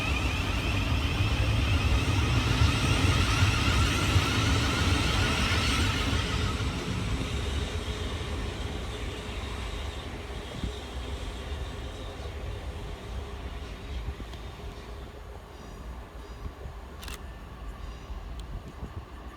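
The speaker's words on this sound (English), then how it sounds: "Next passing through the station is 387206 and 387119, working 1 Foxtrot 37 for Southern from London Victoria through to Orr." Southern electric trains roll through Purley station in South London, a loud rushing rumble of wheels and motors that builds early and then fades into a quieter, steady hum, with no talk over it.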